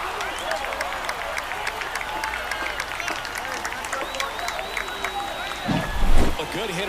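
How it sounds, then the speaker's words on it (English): A baseball stadium crowd at a Los Angeles Dodgers versus Cleveland Guardians game roars steadily after a home run, forming a broad continuous wash of noise under a commentator's voice. "This crowd is on fire right now."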